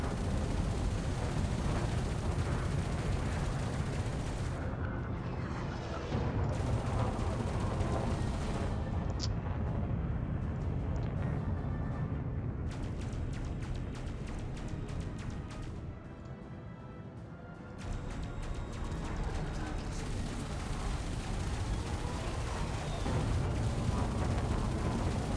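Rolling missile explosions and weapon fire during space combat in the video game Elite Dangerous, a dense continuous roar of blasts and rumble with brief rapid bursts, steady and fairly loud.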